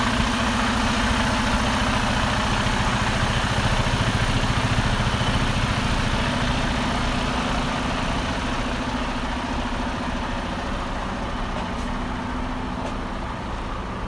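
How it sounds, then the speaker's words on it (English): A locomotive engine idles and runs with a steady low rumble and broadband mechanical noise, fairly loud and continuous throughout, easing slightly toward the end with no talk over it. "Trying to catch up with the locomotive that's leaving us."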